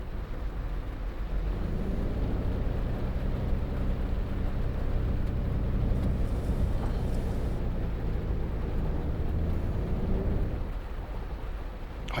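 A bus engine in the Tourist Bus Simulator game, driving routes on Fuerteventura, drones low and steady for a sustained stretch with a broad rumble and faint shifts in pitch, no talk over it.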